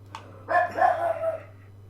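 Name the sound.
dog barking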